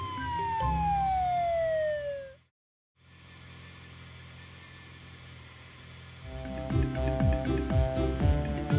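Cartoon police car siren: a loud, gliding tone sweeps steadily downward for about two seconds, then cuts to brief silence before a quieter engine-like hum and a busy, rhythmic stretch of tones.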